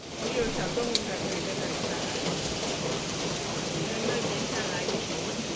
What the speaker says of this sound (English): Outside, the rain hasn't stopped, but in here, the routine continues.